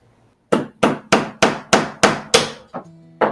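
A hammer tacks a piece down while building a router table, eight sharp, evenly spaced strikes up close, followed by a final softer tap.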